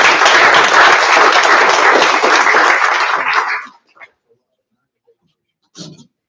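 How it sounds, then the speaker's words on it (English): An audience at a school governing board meeting claps for board members, a steady round of applause for nearly four seconds that cuts off abruptly, leaving quiet with a couple of small knocks and a short voice near the end. "Can we give them a round of applause?"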